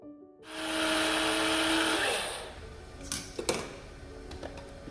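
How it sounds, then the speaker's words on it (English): A micro blender whirs loudly as it grinds wheat berries into flour, a harsh motor roar that runs for about two seconds before winding down. A few sharp clicks and clatters follow, close by and without talk. "And then I can place all my wheat berries into my micro blender here."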